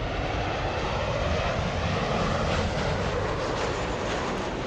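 An airplane in special livery comes in to land at an airport, a loud, steady engine roar and rushing jet noise that holds at the same level throughout, with no talking.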